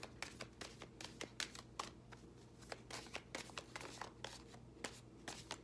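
An oracle card deck being shuffled up close, giving rapid, irregular papery riffles and flicks that run steadily throughout at a low, quiet level with no talking.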